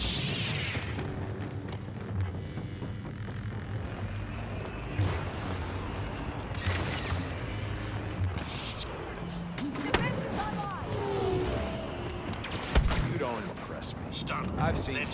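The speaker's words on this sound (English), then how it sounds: "Hell, they like a little blaster fire." Blaster fire in Star Wars Battlefront 2 on Bespin: rapid bursts of laser shots and impacts run throughout, heavy and busy, with a voice talking over them.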